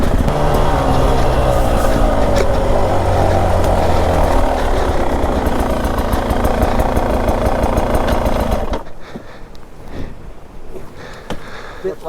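A Beta 350 dirt motorcycle engine runs loud and close at a hill climb sprint, a steady mechanical drone for most of the stretch before dropping sharply to a quieter, rougher idle near the end.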